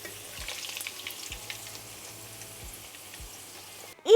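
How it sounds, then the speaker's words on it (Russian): Pirozhki frying in hot oil give a steady, even sizzle with faint crackles, along with a few soft low thuds, and a sharp clatter closes the clip. "Пока этот обжаривается с другой стороны, закладываем еще одного."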